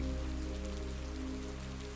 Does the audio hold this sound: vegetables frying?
no